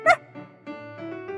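A small dog gives a sharp bark at the start, followed by softer, quieter yips and whimpers, heard as a sound effect in a children's story about a pup in a park.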